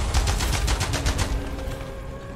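Rapid burst of gunfire from a gun in the first-person game Immortal Redneck, loud and close, a dense rattling volley of repeated shots for about a second and a half, then trailing off into a fading tail.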